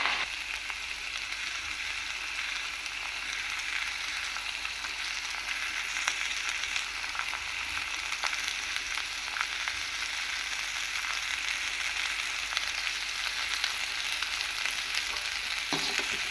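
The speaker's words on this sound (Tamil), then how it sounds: "நல்லா வதக்கி விட்டுக்கோங்க." Baby raw banana fries with chili powder and salt in a pan, a continuous bright, crackling sizzle that holds steady and close throughout, with no voices.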